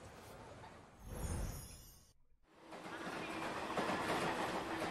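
Train at a platform in the video game 13 Sentinels: Aegis Rim, a rolling rumble with rail clatter that swells, drops out briefly, then returns louder and steady.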